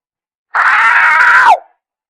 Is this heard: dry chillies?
no